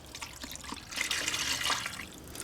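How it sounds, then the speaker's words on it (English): Melted deer tallow is poured into a stock pot, making a quiet, soft liquid trickle and splash that swells in the middle and then tapers off. "I'm going to pour this right in there."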